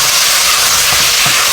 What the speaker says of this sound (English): And now we're just going to saute it till it gets cooked pretty much all the way through.